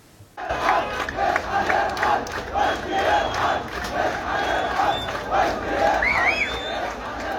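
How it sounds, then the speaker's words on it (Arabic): Students on a protest march in Gaza, a crowd chanting rhythmic slogans in repeated bursts, loud and fairly close, with shouted voices rising over the group. "وبدأوا مسيرة هتافات باتجاه مدرسة الكرمل التي نقل إليها مديرهم وتجمعوا أمامها"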